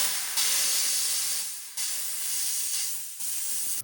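A jeweler's steam cleaner blasts a wedding band with loud, close bursts of hissing steam, three long sustained jets separated by brief cut-offs.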